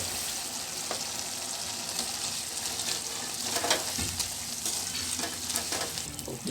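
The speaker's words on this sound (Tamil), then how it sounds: "கொஞ்சம் கொஞ்சமாக போட்டு கிண்டிக்கிறோம்" A thick postpartum legiyam paste being stirred in oil in a pan, with a steady frying sizzle and continuous scraping of the ladle, close and even throughout.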